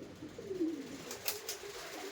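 A single soft, low coo from racing pigeons in a loft in Baranagar sounds nearby, followed by a couple of faint clicks and a quiet ambient hum.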